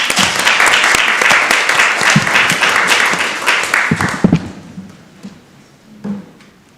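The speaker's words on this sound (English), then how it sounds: "Give a round of applause." Applause at a council meeting for the junior mayor, a dense round of clapping that dies away after about four seconds, leaving scattered claps, thumps and room noise.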